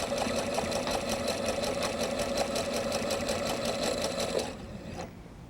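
A sewing machine stitches miniature pineapple log cabin quilt pieces, running in a fast, even mechanical rattle at close range for several seconds before slowing and stopping near the end.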